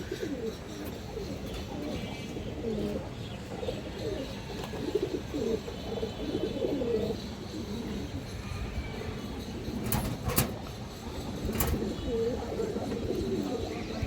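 Pigeons in a loft housing breeds such as Muslim-tailed birds coo continuously in overlapping, rolling calls against a constant background hum, with occasional sharper chirps and faint clattering.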